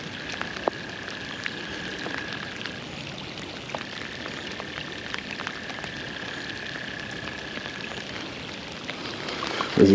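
Rain falls steadily on a flooded creek, a soft, even hiss of drops close by, with faint intermittent tones and a louder burst at the very end.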